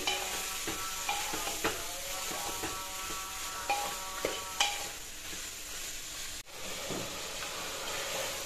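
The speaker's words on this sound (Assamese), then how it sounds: "যেতিয়ালৈকে মাংসৰ পৰা পানী নোলায় তেতিয়ালৈকে মাংসখিনি ভাজি।" Chicken meat fries in a pressure cooker with a steady close sizzle, broken by repeated scraping taps of a spoon stirring against the metal.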